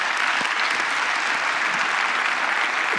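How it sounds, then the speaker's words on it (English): Audience at the 2022 General Assembly applauding steadily, a dense, even wash of clapping from a large crowd that holds at constant loudness throughout, with no talk over it. "please give them a round of applause just one more time"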